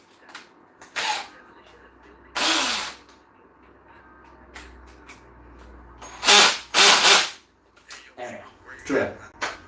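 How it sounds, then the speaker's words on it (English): A power drill being used while breaking up furniture whirs in several short, loud bursts separated by pauses, with people talking in between. "Drill."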